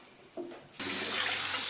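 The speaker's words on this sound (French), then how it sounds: "Rincez ensuite les pommes de terre à l'eau froide" Cold tap water runs over potatoes being rinsed in a sink, starting with a faint trickle and then opening into a steady, loud splashing rush that continues to the end.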